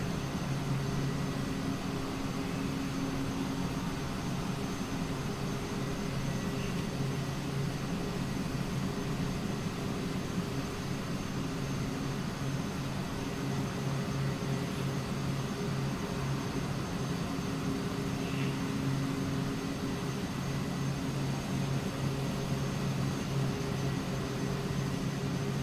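Carenado B200 turboprop engines drone in the MSFS 2024 flight simulator, a constant, even hum from inside the cockpit that holds steady throughout with no speech.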